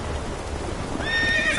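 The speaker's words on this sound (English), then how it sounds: "Whoa there, Roach." Horse neighing in The Witcher 3: a whinny with harmonic cries rises over the final half-second, above a steady background of hoof and ambient noise.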